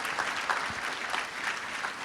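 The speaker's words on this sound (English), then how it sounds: "So let's all give them like a round of applause as well right now, for encouragement" Steady, dense applause fills a large audience at a university senior fashion show, many hands clapping together at full strength without a break for the whole stretch.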